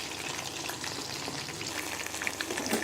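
Mushroom pieces for Mushroom 65 fry steadily in hot oil in a pan, a continuous close crackling sizzle with small pops and no talking.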